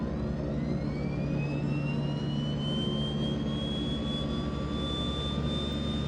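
A DHC-6-300 Twin Otter's left engine running in the FSX flight simulator, a steady loud turbine roar with a rising whine that climbs slowly and then holds, with no talk over it.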